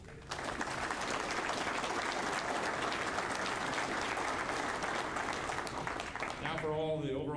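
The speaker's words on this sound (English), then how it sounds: "a short applause for all the district winners" A convention crowd applauds award winners, a dense, steady clapping that fills the room for several seconds before a voice returns at the end.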